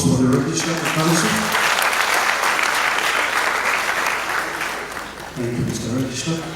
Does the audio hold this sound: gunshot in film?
no